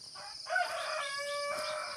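Light Sussex and Light Brahma chickens give a short, loud, close bird call with a stacked, tonal, crow-like sound lasting about a second, over light farmyard background noise.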